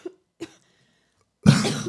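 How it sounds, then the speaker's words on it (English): A man coughs: two short faint coughs, a pause, then a louder, rougher cough up close. "I just got the coughs"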